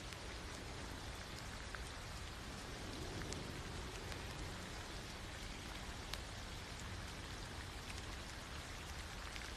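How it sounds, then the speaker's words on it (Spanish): Steady rain falls without pause, a dense constant hiss of drops with no voices, setting the scene at a train station. "La lluvia cae sin cesar"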